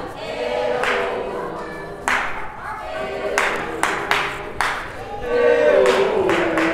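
A group in a workshop claps in several short bursts, sharp broadband cracks that start and stop unevenly, with voices talking and calling out between and over them.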